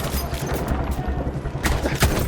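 Dense, chaotic gunfire and blasts in a Battlefield 1 battle, with a sharp explosion boom near the end cutting through continuous noisy rumble.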